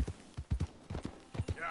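Hooves of a white Arabian horse clip-clopping at a steady walking rhythm in Red Dead Redemption 2, close and distinct paired thuds, ending with a faint tonal game sound.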